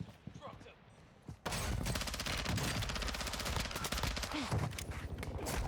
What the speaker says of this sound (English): Oh, they're shooting from above.